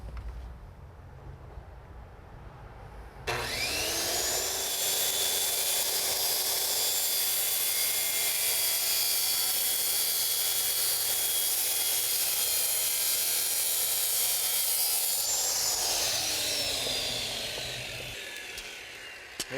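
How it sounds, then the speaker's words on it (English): A power saw starts up and rips through plastic eco decking tiles with a loud, sustained high whine and rasp for about twelve seconds, then spins down and fades out. "I'll be able to set the saw just a little deeper, cut through the plastic"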